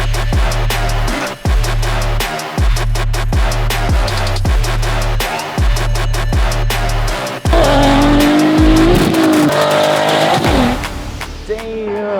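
A 600hp Nismo 370Z sports car runs hard, loud and close, with rhythmic engine pulses and gear changes giving way to a long, wavering tire squeal as it slides.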